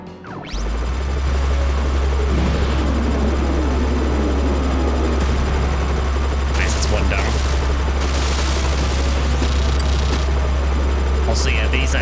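Helicopters in the Front Mission 3 video game, a dense steady low engine drone with continuous rotor rumble and bursts of gunfire clatter layered on top, loud and unbroken throughout.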